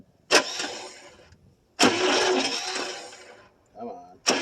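A 1974 International pickup that has sat for about 25 years cranks in loud, broad bursts, first a short one and then a long grinding stretch, with a voice murmuring between the attempts.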